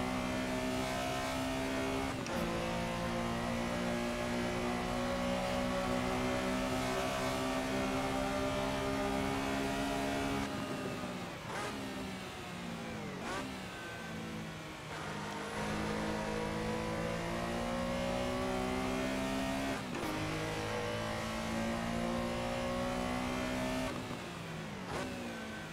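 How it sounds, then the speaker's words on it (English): A red Porsche race car in the Assetto Corsa video game drives a straight, its engine revving loud and steady, pitch climbing through the gears with brief drops at shifts, droning continuously close by. "This red Porsche is going to pass me on the straight, I think."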